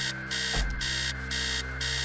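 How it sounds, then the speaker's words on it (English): An alarm clock blares upstairs in the game Stories Untold, sounding as a loud electronic beeping that pulses in regular bursts, with a brief low thump partway through. "Upstairs, the sound of an alarm clock blaring."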